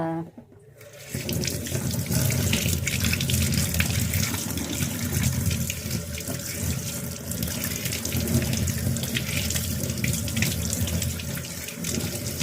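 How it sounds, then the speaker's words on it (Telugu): Bitter gourds are rinsed under a running kitchen tap, the water gushing and splashing steadily into the sink throughout after a short quiet start. "అయితే ఇల్లు చేస్తూ కడుగుతున్నాను ఇలా పైన కడిగేసుకోవాలి రెండు కూడా కడిగేసుకొని"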